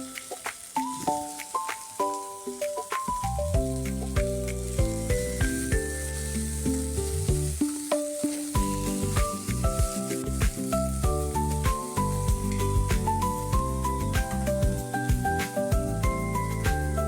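Asafoetida and onion, some sliced lengthwise and some finely chopped, sizzle in hot oil for a jackfruit-seed vegetable dish, a continuous frying hiss sitting beneath prominent music.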